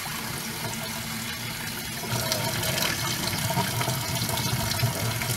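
Tap water pours and splashes while a leech habitat is rinsed, a steady, close rushing hiss that grows louder about two seconds in and keeps going without any talk.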